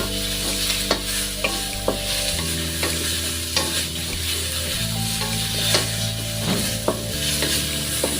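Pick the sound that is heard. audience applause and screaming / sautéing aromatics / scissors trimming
sautéing aromatics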